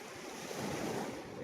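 Cold wind gusts steadily at Veraval beach on the seashore, a continuous broadband rush with surf noise mixed in and no talk.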